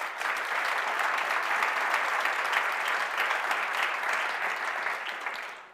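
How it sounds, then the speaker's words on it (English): A large audience claps steadily for startups at a health prevention grant event, a dense, even wash of applause that holds for several seconds before tapering off at the end. "I think they deserve a big round of applause."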